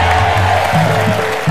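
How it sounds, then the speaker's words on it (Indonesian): Brief burst of studio audience applause on an Indonesian TV talk show, dense clapping held at a steady, fairly loud level throughout. "Tepuk tangan sekali lagi untuk Marwoto."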